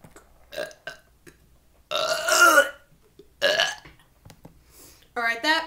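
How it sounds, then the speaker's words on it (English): Several loud, drawn-out burps come close to the mic, the longest around two seconds, with short pauses between them and a final croaky, rippling belch at the end. "that burp was pushed out"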